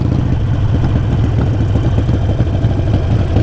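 Up close, a motorcycle rolls along in second gear at light throttle, its engine a loud, steady low rumble with rapid rhythmic firing pulses and faint clatter, no voices over it.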